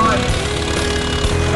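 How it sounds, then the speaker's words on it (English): Vintage Case LA tractor at a tractor pull, its engine roaring loud and steady with a deep throbbing rumble throughout, close by. "Here we have Jeff Thomas in the LA case"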